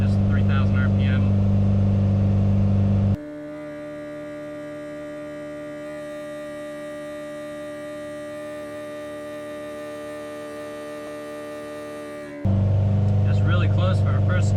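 A naturally aspirated Ford F100 engine with Holley EFI runs on a dyno, holding a steady drone near 3,000 RPM for several seconds between louder, rougher bursts at the start and end.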